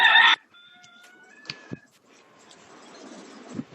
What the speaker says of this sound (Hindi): मुर्गा किसका है?